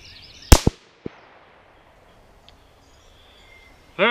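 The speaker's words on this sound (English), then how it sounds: "Load, shoot this last round here." A single sharp report from a Marlin 17V rifle chambered in .17 HMR, loud and close, followed by a quick echo and a faint distant crack, then quiet outdoor air.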